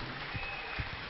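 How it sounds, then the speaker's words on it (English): A congregation at a Eucharistic adoration service claps together in worship, a brief, dense patter of applause heard at a moderate distance under a steady background wash. "Make sure you are clapping for God."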